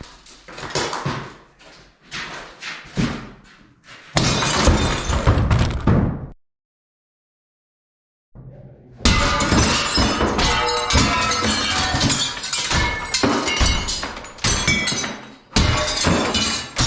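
Window glass in the basement of an abandoned church shatters as it is broken out, with bursts of crashing and tinkling shards, a silent gap, then more prolonged smashing and clinking up close.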